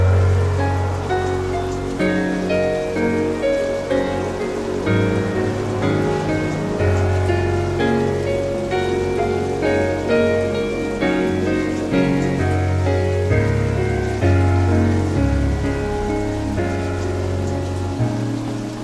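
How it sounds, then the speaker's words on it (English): Steady, dense patter of rain falling on hard surfaces, continuous and fairly loud throughout, with no talking. "The umbrella didn't offer enough protection for this woman in the rain."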